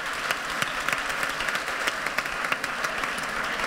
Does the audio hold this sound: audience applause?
yes